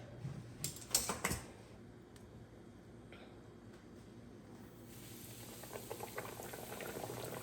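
Pork chops laid into very hot frying grease on medium heat, giving a steady close sizzle with a few sharp pops and crackles early on that settles into a continuous hiss.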